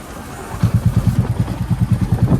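A motorcycle engine starts and settles into a steady, throbbing idle, loud and close, with regular pulsing beats after a brief moment of quiet.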